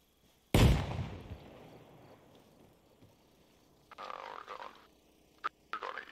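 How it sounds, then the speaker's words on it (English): A frag grenade explodes in the military shooter Arma Reforger, one loud sharp blast with a long rumbling decay, followed by quieter distant pops and scattered noises. "Throwing a grenade."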